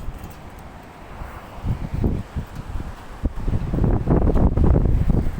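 Gusty typhoon wind in Hong Kong buffets the microphone in rising, roaring bursts, growing louder and more turbulent toward the end, with no voices.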